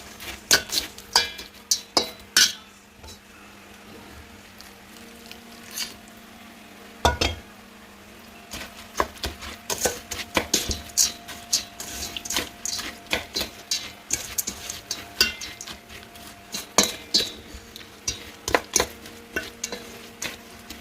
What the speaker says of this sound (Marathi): साखरेचा पाक थोडा घालून मिक्स करून घेत आहे.